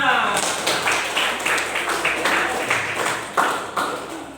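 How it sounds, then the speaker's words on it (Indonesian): Students in a classroom clap their hands together after finishing group work, a brief burst of scattered, uneven claps in a small room mixed with talking. "tepuk tangan buat kita semua"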